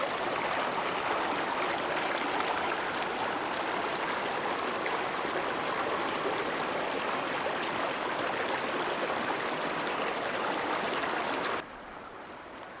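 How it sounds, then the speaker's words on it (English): A mountain creek in the Sierra Nevada flows continuously as a dense, steady rushing of water close by, until it cuts out abruptly near the end. "just before another stream comes in from the side."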